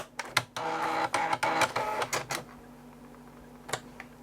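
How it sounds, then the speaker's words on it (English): An Amstrad PC1512-era dot-matrix printer runs a test print, sharp buzzing bursts of the print head in quick uneven bursts, then a quieter hum and one last short burst. "Well, it is trying to print something."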